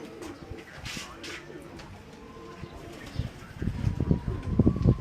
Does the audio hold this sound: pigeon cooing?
yes